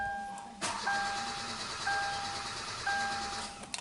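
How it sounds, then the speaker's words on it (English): A 2012 Hyundai Accent engine cranks over steadily without catching, a continuous whirring starter churn lasting several seconds alongside repeated chime tones, close and loud, with no talk. "so we definitely have a crank no start"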